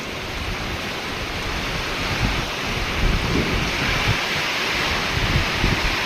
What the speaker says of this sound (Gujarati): પવન અને વરસાદ બંને ભેગું છે